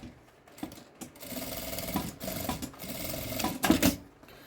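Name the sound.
sewing machine stitching fabric lining of milk-carton box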